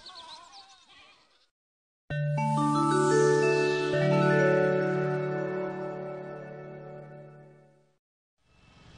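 Goats grazed in grassy pastures bleat in a long, loud, wavering cry close by, preceded by faint bleating in the background and no talk.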